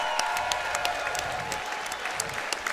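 A crowd at a USFFC 24 fight event applauds steadily, a dense, continuous clapping wash with scattered sharper claps and faint cheering, no speech over it.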